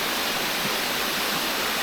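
Grey Mare's Tail waterfall in Wales pours with a constant, dense hiss and rush of falling water, steady and close with no voices.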